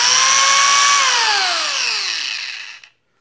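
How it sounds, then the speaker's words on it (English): An Arbortech mini grinder spinning at 18,000 RPM gives a loud, steady high-pitched whine, then winds down in falling pitch over about two seconds as it is switched off. "I want you to listen to how loud they are. So this is the mini grinder."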